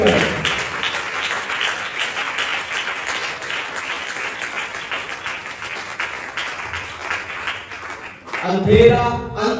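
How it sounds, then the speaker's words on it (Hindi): A church audience claps loudly at a sermon on handling dark times, dense sustained applause that holds steady for about eight seconds before a brief louder burst near the end. "हम जोरदार तालियों से उसका स्वागत करें।"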